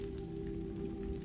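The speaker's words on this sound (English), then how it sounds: "It brushed the shrubs, and the sound was like distant rain, soft and steady" Wind sweeps through shrubs outside a cabin, making a soft, steady hiss like distant rain that never breaks rhythm, with a faint constant hum underneath.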